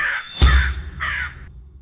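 A crow gives two harsh, close caws, the first short and the second drawn out, with a low thump between them and no voices.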